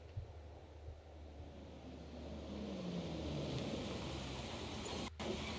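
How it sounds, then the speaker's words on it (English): A bus engine in the Everlasting Summer game rumbles as the vehicle pulls over, a steady low drone that builds slightly louder toward the end, heard alone without talk. "The sound of an engine brought me back to reality. A bus pulled over."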